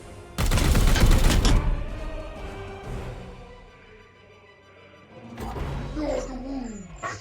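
A bolter firing in the Warhammer 40k Chaos Gate Daemonhunters video game, a loud close burst of rapid heavy shots followed by a rumbling tail, then a second impact with whooshing, swirling effects.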